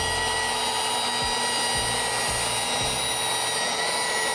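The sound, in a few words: rotary polisher with foam jeweling pad running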